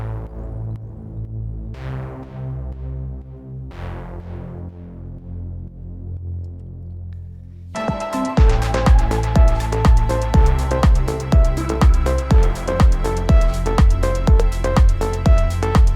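Abrasive patch from Massive X playing the main low-mid element of a track: after soft, decaying sustained tones, a loud, dense, gritty synth layer enters midway with steady pulsing hits through to the end.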